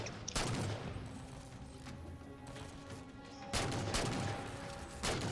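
DMR rifle fire in the Halo Spartan Ops video game: sharp gunshots near the start, a cluster of shots around the middle and another at the end, loud and close over game ambience.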